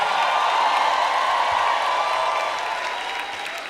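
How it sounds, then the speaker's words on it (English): A large summit audience applauds steadily in a hall, a dense, even wash of clapping with faint cheering mixed in that holds loud throughout and eases slightly toward the end. "a rising, a standing, a loud cheer, an ovation."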